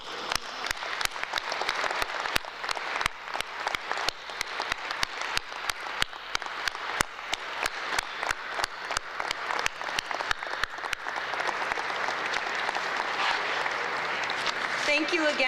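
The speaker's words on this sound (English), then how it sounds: "let's give one big final round of applause that we got this done" An audience at an airport ceremony marking the completion of the O'Hare Modernization Program claps, sharp separate handclaps building into steady applause that lasts about fifteen seconds, with some voices mixed in.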